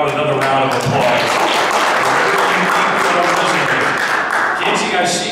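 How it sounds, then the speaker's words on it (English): Audience applause fills a marathon press conference room, a steady dense clapping that holds loud and even throughout with some voices mixed in beneath it. "How about another round of applause?"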